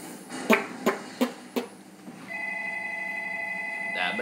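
A phone ringing steadily in the background of a gaming session, following a few sharp knocks, with a constant electronic ring tone that is moderately loud and close.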